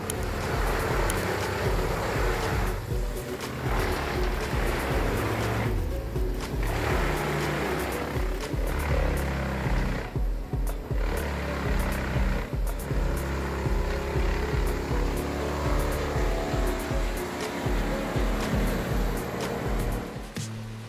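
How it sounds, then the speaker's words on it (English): A 1998 Altec WC612 drum chipper processing wood: a loud, continuous roaring grind with shifting surges and brief dips, heard alone without talk. "The Altec WC612 1998 is a powerful drum chipper, very important in the woodworking industry."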